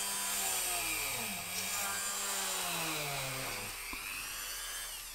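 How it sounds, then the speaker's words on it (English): A Dremel rotary tool grinds into the plastic housing of a 2001 ATE Teves Mk60 ABS brake control module, a loud continuous whine whose pitch sweeps down and back up under load before cutting off near the end. "So use the old Dremel there."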